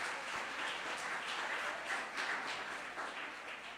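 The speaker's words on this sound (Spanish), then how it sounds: "Un fuerte aplauso." A church congregation applauding together during a sermon, a steady wash of clapping from many hands that holds at an even level without talk.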